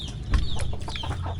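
Chickens clucking close by in a rural yard in San Pablo City, Laguna, a brief burst of overlapping clucks and calls with no talk over them.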